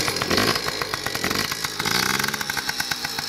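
Yamaha PW50 two-stroke dirt bike buzzing steadily after a kick start, its small engine rattling with quick blips of gas up close.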